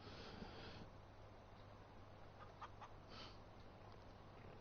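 Chickens cluck faintly inside a large chicken hut on a Farming Simulator 19 farm, with a few soft, scattered calls over a constant low mechanical hum.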